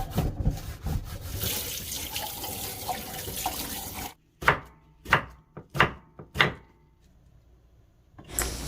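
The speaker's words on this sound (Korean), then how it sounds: "이제 오이지를 썰고" A knife slices through oiji, Korean pickled cucumbers: a series of about six sharp, close chopping knocks on a board with short gaps between them, after a stretch of running water and sink noise.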